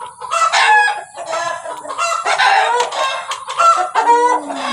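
Chickens cluck and squawk loudly and close by in a busy overlapping stream, with a rooster's crow rising among them, heard alone without talk.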